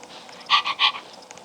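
A person mimics a dog with three short, breathy barking bursts in quick succession, close and moderately loud, with no talking over them.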